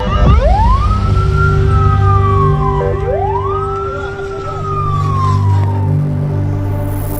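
An ambulance siren in Gaza wails loud and close, rising and falling in two long sweeping cycles over a continuous steady tone and rumbling traffic noise.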